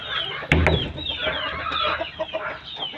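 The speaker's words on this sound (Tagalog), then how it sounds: "Bali yung sisiw" Chickens and chicks on a small poultry farm cluck and peep continuously up close, with one louder squawk near the start.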